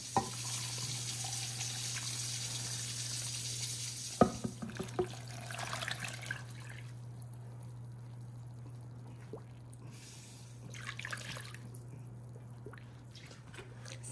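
Water poured by hand into a container while eco-dyeing paper, a steady close splashing stream that tapers into scattered drips and trickles, with a faint low hum underneath.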